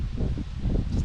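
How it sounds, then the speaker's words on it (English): Strong wind buffets a nearby microphone with a steady low roar, gusting unevenly throughout. "It is windy as hell out here"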